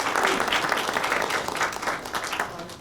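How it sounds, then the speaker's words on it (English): Clapping breaks out in a courtroom re-enactment, a lively burst of many hands applauding close by, fluttering and uneven, slowly tapering in strength toward the end. "No clapping in the court"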